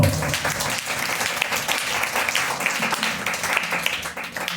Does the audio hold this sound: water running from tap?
no